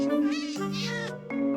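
A Minecraft cat meowing in a village, two or three drawn-out, tonal meows in close succession, near and clear, with no talk over it.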